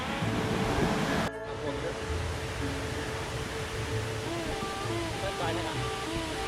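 Small tier of a forest waterfall on a camping trip, a steady broadband rush of falling water running continuously, fairly close and even throughout.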